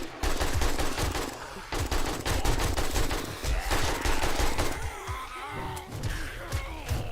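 Sustained rapid automatic gunfire in the survival game 7 Days to Die, loud and nearly continuous with brief gaps, with a player's gasps and groans mixed in.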